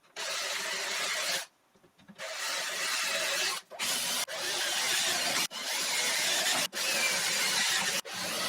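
Power drill boring dowel holes in green oak planks for a garden planter, a loud close whirring grind in several long runs separated by short pauses as the bit stops and restarts.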